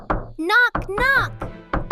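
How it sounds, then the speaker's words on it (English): Knocks land on a sparkly fairy queen's castle door in a cartoon, a few hollow thuds mixed in with animated character voices speaking loudly over them. "Knock, knock!"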